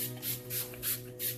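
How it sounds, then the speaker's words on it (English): Quiet rhythmic hissing bursts of makeup setting spray, about four short sprays in a row, close to the microphone. "setting spray to make sure that everything stays in place"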